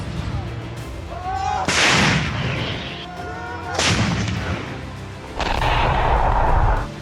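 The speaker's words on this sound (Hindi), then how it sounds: "रात भर दोनों ओर से टैंक से निकले गोले आग उगलते रहे।" Tank shells fire in fighting along the Afghanistan-Pakistan border, with three heavy booming blasts, each followed by a long rumbling decay, loud and spaced a couple of seconds apart.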